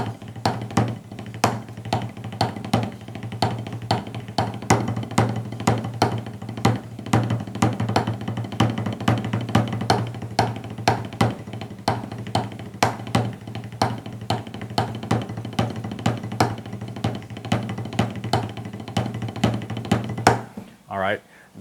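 Drumsticks play a rebound exercise phrase in 4/4, a dense, continuous run of sharp, evenly spaced strokes that carry on for about twenty seconds before stopping abruptly.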